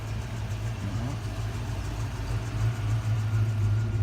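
A car engine with a Flowmaster exhaust idles steadily with a deep, throaty exhaust burble, constant and close, with no one speaking.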